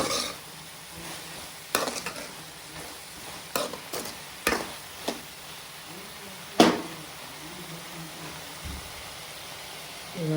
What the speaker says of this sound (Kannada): ಆಲೂಗಡ್ಡೆ ಸ್ಮ್ಯಾಶ್ ಮಾಡಿರೋದಾಕಿ ಮಿಕ್ಸ್ ಮಾಡ್ಕೊಬೇಕು ಚೆನ್ನಾಗಿ